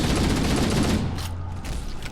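Assault rifle fire in Halo: Combat Evolved during combat with the Flood: a loud, dense, continuous burst of rapid shots, easing slightly toward the end, with no talking.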